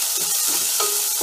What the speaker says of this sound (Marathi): तो पण छान असं परतून घ्यायचा कांद्यामध्ये